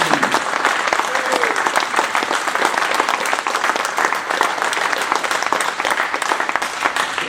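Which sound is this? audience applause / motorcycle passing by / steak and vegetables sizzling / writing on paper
audience applause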